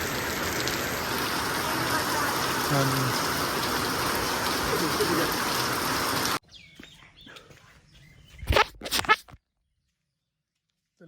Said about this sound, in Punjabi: ਮੀਂਹ ਬਹੁਤ ਪੈ ਰਿਹਾ ਉਹ ਦੇਖੋ